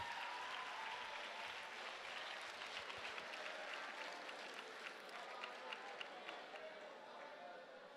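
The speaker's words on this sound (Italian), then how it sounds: "fatevi un applauso per la vostra attenzione fin qua" A live DJ show at an outdoor legality event in 2023 ends in sustained crowd applause, dense and continuous for the whole stretch, with cheering voices mixed in at a moderate distance.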